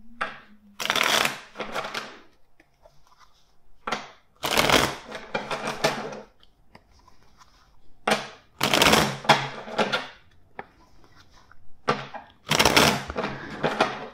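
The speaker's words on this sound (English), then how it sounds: "first let's shuffle the deck four times for you." A deck of tarot cards is shuffled four times, each riffle a loud, close burst of rapid flapping and clicking, separated by brief pauses, with no talking over it.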